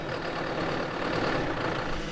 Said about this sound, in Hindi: डीजल ट्रैक्टर की आवाज़ ऐसी होती है और ऐसा होता है उसका धुआं।